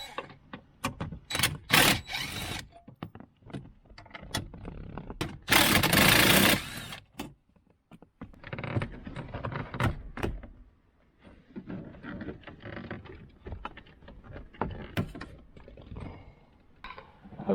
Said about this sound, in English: We're going to start by taking this panel off